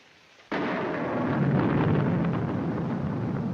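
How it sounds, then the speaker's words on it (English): A sudden crack of thunder breaks in and swells into a long, loud, rolling rumble that fills the rest of the stretch, heard indoors during a 1946 film scene set on a stormy night. "I'm afraid of the thunder and lightning."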